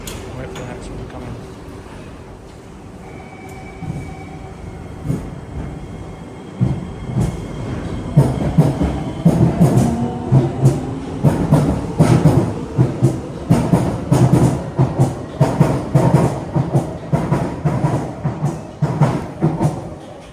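Trains arrive and pass through a station platform in Singapore: rumbling rolling stock and wheel noise build after the first few seconds and continue loudly to the end, with a faint tone early on and voices heard throughout.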